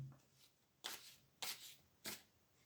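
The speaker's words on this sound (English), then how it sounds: "I'll just give them a little shuffle and then we'll try and pick a card." Tarot cards are shuffled three times in quick, crisp riffling bursts, close and quiet, with short pauses between each shuffle.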